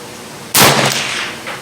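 A single sharp rifle shot from a Ruger 10/22 magnum with a heavy barrel, fired outdoors at a 75-yard target, a sudden loud crack followed by a brief fading ring with no talk.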